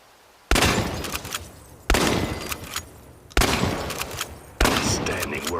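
Four loud, evenly spaced shotgun blasts in the post-apocalyptic shooter ChernobyLite, each a sharp crack followed by a decaying echo and some clatter between shots.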